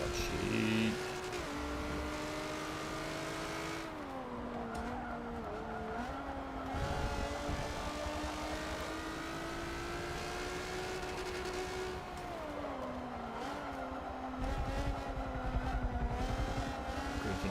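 A Lancia Delta S4 engine drones and revs through gear changes in a Forza 7 race, a continuous loud rasp with rising and falling pitch and occasional tire noise, with no talking.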